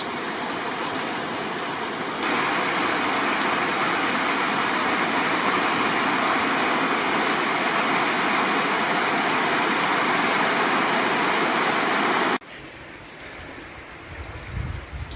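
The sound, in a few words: heavy rain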